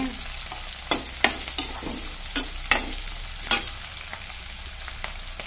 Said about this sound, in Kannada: ಇವು ಹಸಿ ಮೆಣಸಿನ್ಕಾಯಿ ಹಾಕಾಕತ್ತೀನಿ. ಅವು ಒಂದು ಸ್ವಲ್ಪ ಅದ್ರಾಗ ಹುರಿಕೋಬೇಕು.